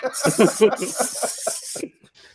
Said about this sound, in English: I'm going to get some gold spray paint as we speak.